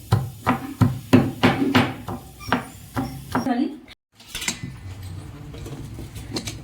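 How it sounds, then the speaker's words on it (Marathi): Ginger and garlic pounded for a simple onion curry, roughly eight firm rhythmic thuds close by over a few seconds, then the strikes stop and only quieter background noise remains. "आपण इथे अद्रक आणि लसूण वगैरे जे साहित्य लागणार आहे ते कुटून घेऊ"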